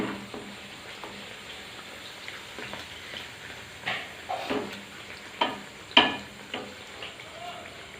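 Aloo puri fry in oil over a medium flame, a soft continuous bubbling sizzle with occasional louder spatters and utensil knocks toward the end.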